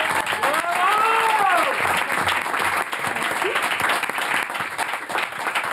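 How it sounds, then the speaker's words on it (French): Audience on a French TV show bursting into loud, sustained clapping and cheering, dense and continuous, with some voices calling out over it. "on l'applaudit"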